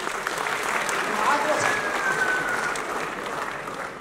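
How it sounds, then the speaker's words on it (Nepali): An audience at a Nepali political party gathering claps in a dense, sustained wash of applause that swells slightly and then tapers, with a voice faintly audible underneath. "तपाईहरु सबैले ताली बजाएर होला पनि अभिनन्दन गर्नु"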